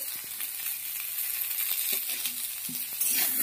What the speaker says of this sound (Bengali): লবণের সঙ্গে আলুটাকে নেড়ে দিতে হবে, মিশিয়ে দিতে হবে